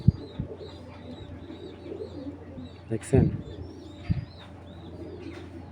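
Giribaz flying pigeons cooing in a loft, soft repeated coos and chirps close by while someone talks over them.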